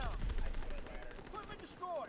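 Video game shooter gunfire, a low rumble of distant shots and bursts under intermittent voices, with occasional brief whooshing tones, fairly faint overall.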